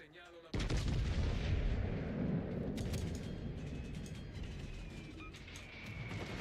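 In World of Warships: Legends, a warship's main guns fire with one heavy, close boom, then a long rumbling roar slowly fades over several seconds.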